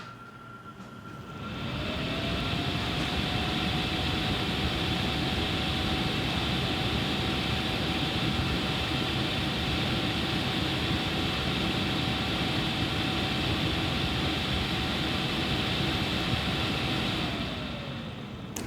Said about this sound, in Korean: 세계 최초로 무시동 히터에 BLDC 모터를 적용했습니다. 지금 BLDC 모터 달려 있어요.